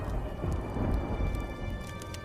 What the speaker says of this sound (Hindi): आसमान में काले बादल छा जाते हैं और जोर जोर से बिजली कड़कने लगती है